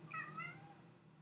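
A pet cat meows indoors, giving a couple of drawn-out, rising-and-falling calls close by and fairly soft, with a low household hum beneath and no talking.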